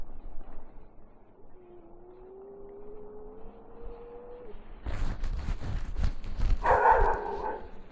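After a quiet stretch with a faint whine, a dog barks several times in quick succession, fairly close and loud.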